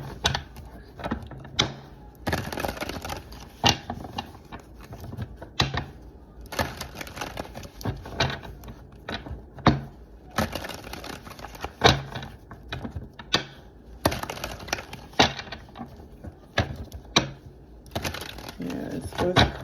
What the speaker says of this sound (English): it's been so long I don't know how to shuffle anymore